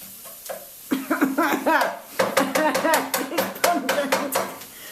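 Asafoetida (hing) is stirred into hot oil in a pan, with a soft sizzle under a run of quick scraping and clicking spoon strokes, while people talk briefly.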